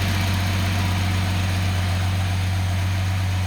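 A Datsun 280ZX turbo engine idling on a test stand, a steady low drone with strong constant hum running throughout, close and unbroken, with no talking.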